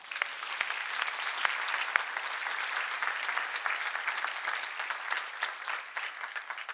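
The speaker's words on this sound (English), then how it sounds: "I think she deserves a round of applause." Steady audience applause fills a hall at a Georgetown university event on racial injustice, many hands clapping densely and evenly at moderate loudness for about seven seconds before beginning to thin slightly at the end, with no voices over it.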